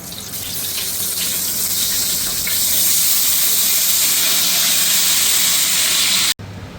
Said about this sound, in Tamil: எண்ணெய் நல்லா சுட்டுருச்சு.